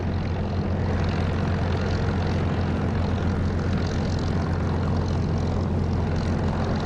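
Engine drone of an F-14 jet in the DCS flight simulator, a steady continuous roar with a low hum that holds at constant loudness throughout, heard alone with no talk.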